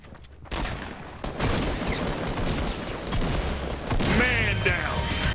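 Rapid bursts of gunfire in the video game Fortnite, a dense continuous stretch of shots with several sharp cracks, fairly loud and steady throughout.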